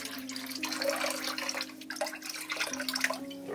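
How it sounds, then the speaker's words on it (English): Tap water pours steadily into a bathroom sink, a continuous hiss and splash close by with a low hum beneath, no voices over it. "The water's heating up, so I'm just gonna close this, let the sink fill up a little bit."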